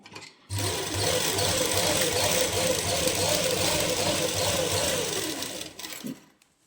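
A sewing machine stitches salwar lining pieces together, running in one steady, close burst for about five seconds before slowing and stopping, with no talk.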